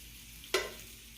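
Grilled chicken goes into an Instant Pot with a single brief, close burst of sizzle and clatter, over a quiet kitchen background.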